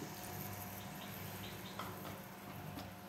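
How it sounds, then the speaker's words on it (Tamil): Tamarind water poured into a pan for paruppu urundai kulambu, a faint soft trickling splash in a home kitchen, no talk. "நான் ஒரு எலுமிச்சை சைஸ் அளவு புளி எடுத்து ஒரு பத்து நிமிஷம் ஊற வச்சுட்டு கரைச்சி எடுத்துருக்கிறேன் அதையும் இதில் சேர்த்துடலாம்"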